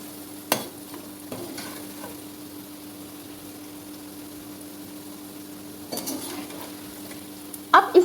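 Arvi (taro root) pieces fry in a pan with a soft, steady sizzle. A few brief utensil clanks come through near the start and middle, with louder clatter at the end.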